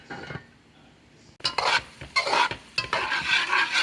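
Vegetables sizzle in a pot for a wood duck sauce piquante: faint cooking at first, then loud, close scraping stirs and clattering utensil hits over an irregular sizzle, with no voices.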